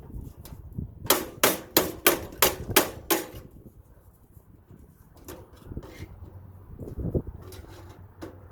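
Hammering while tearing down a double toaster oven: about eight sharp metallic blows in quick, even succession, loud and close, followed by quieter scattered knocks and clatter.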